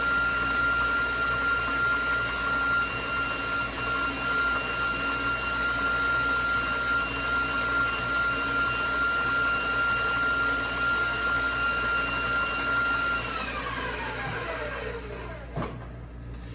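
A stand mixer with a paddle beats vanilla cupcake batter in a steady, loud motor whine, then winds down and stops near the end.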